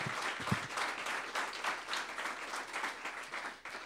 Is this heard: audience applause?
yes